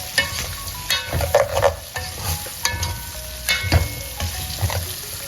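Turmeric fried chicken (ayam goreng kunyit) sizzles steadily in hot oil in a pan, with repeated scraping and clattering as it is stirred.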